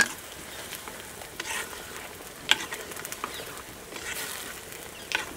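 Onions sizzle and fry steadily in a pan while being cooked for ghee rice and chicken curry, a continuous crackle with occasional sharper pops and stirring scrapes, close and fairly loud, with no talking.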